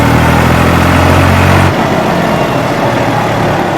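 Tractor engine close to the microphone, loud and revving hard, then dropping abruptly to a steadier lower rumble about halfway through, with no talking.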